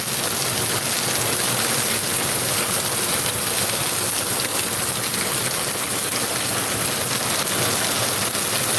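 Heavy rain pours steadily as a dense, loud, unbroken hiss of drops striking surfaces, with no pauses or voices.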